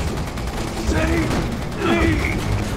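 Gunfire in the Resident Evil 6 video game, a dense continuous rattle of shots under a loud game soundscape, with a voice sounding over it.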